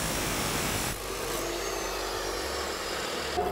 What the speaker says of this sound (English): Now I'll cut my two rods a 1/4-20 Allthread for the electronics bay.